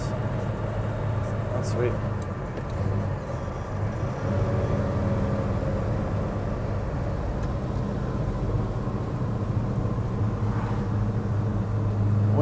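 A 1970 Chevy Chevelle SS 454 with a 5-speed gearbox cruising at low revs, its engine a steady, loud, droning rumble from inside the car, with a brief spoken remark over it.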